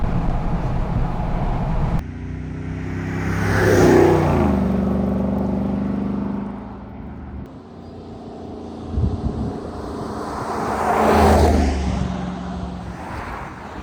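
A lifted Jeep Wrangler Rubicon 392 on bigger tires makes hard acceleration pulls, its V8 engine rising in pitch through two loud surges with a quieter lull between them.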